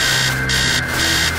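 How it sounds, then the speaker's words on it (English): A loud alarm clock rings continuously in a horror video game, a harsh, steady electronic buzz pulsing in even bursts, alone and close. "Make the alarm clock stop."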